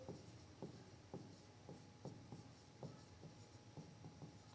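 Marker or chalk writing on a classroom board during a biology lesson on plant gas exchange, heard as a steady run of short scratchy strokes in a quick repeating rhythm, close and moderately loud, with no talking over it.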